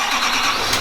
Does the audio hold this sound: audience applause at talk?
no